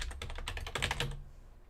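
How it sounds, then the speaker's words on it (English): Rapid typing on a computer keyboard while entering code, a quick run of close, crisp key clicks that slows and fades out toward the end. "what you can do is you can type some code up here"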